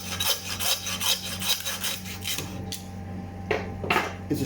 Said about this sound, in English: that pretty much just saw that knuckle off